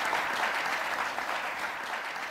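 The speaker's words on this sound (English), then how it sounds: "Give her a round of applause as well." A debate audience applauds for debater Haiyan Wang, a dense steady burst of clapping from many hands.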